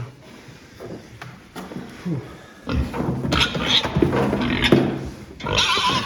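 An 88 kg Landrace pig grunts and shuffles on a scale, hooves clattering on the hard metal surface, the noises growing louder and busier partway through.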